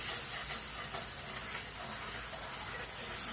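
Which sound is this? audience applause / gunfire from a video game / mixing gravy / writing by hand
mixing gravy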